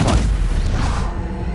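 A Stupefy stunning spell striking in Hogwarts Legacy: a single heavy, booming impact hits at once and decays over about a second and a half, loud and close with no voices.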